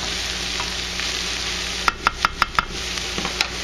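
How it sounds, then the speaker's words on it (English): Chives frying in a pan, a steady sizzle running throughout with a quick burst of knocking stirs near the middle and a lone tap toward the end. "throw the chives in like that. Start cooking them down a little bit"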